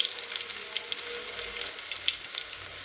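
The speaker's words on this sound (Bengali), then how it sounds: "সেই তেলেই আমি এখন ফোড়ন দিয়ে দেবো। জিরে দিচ্ছি" Whole cumin seeds sizzle in hot oil left over from frying fish, a soft, even hiss with scattered tiny pops, close but fairly quiet and unbroken by speech.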